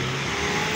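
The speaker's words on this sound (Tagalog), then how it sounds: "Medyo maraming mga sasakyan kaya medyo mahirap tumawid" Cars pass along Balete Drive, a busy city road, as a loud, steady close roar of engines and tyres with no breaks in the traffic.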